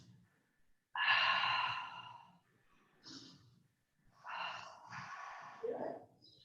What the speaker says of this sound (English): Take 3 deep inhales and exhales.